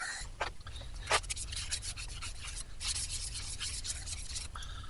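Sanding sealer being rubbed onto walnut wood by hand, a close, quiet, scratchy rasping with repeated strokes and brief louder swipes, no talking.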